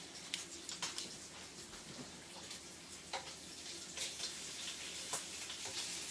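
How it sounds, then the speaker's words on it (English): Bacon crackles and sizzles in a pan, with sharp pops and spits scattered over a steady hiss, close and fairly quiet, with no one speaking. "So the bacon is cooking."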